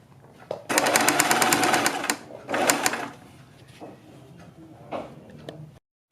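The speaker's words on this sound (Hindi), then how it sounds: "इसके ऊपर सिलाई लगाते जाएंगे" A sewing machine stitches a strip along a kurti neckline, loud and close, running in two fast whirring bursts and then a few short, softer runs.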